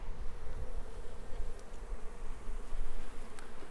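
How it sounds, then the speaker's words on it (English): A dense swarm of honey bees buzzes steadily and close, a continuous droning hum with no talking. "Just going to shake a couple of bees in there."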